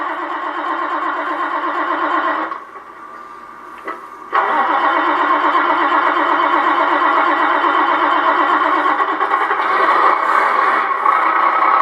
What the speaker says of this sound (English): I've got the engine start with lighting effects.